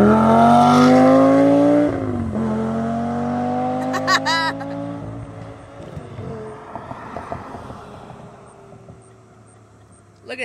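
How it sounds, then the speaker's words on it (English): A Lamborghini sports car approaches loudly with a deep engine drone that shifts pitch as it passes, then fades into the distance, leaving quieter outdoor noise before another rise at the end; people talk faintly. "Here they come. The Lamborghini."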